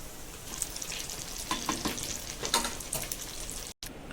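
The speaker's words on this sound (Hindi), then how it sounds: "ये देखिए हम फ्राई कर रहे हैं" Bread pakoda-style vada pav frying on low heat, a soft steady sizzle of oil with a few sharper crackles and stirring clicks, close and without talk, cut by a brief dropout near the end.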